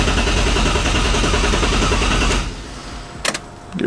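A junkyard engine in a BMW E36 barn-find car cranks and runs with a steady dense drone for over two seconds, then cuts out, leaving a few faint knocks and clicks.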